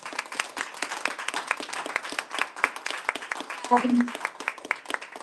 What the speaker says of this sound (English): give these beautiful women a strong round of applause.